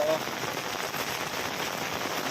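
Dense, steady monsoon rain pours down close by in Patan, Gujarat, a continuous hiss of drops pattering on surfaces.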